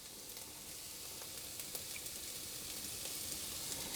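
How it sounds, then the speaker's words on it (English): Onions and celery sizzle quietly in heated oil, a faint, even crackle with scattered small pops throughout and no voices. "with the oil heated up, I'm going to put in the onions"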